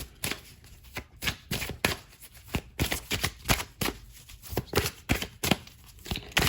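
Tarot cards shuffled and drawn from a deck, a dense run of quick crisp riffling snaps and slaps close up, steady rhythmic bursts with no talking.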